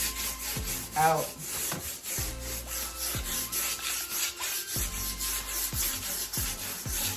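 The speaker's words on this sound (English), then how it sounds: "now I'm gonna take this same 220 grit sandpaper and I just want to smooth" A wooden desk being hand-sanded with 220 grit sandpaper, giving steady back-and-forth rubbing strokes close by, with a few sharper scrapes and no talk over it.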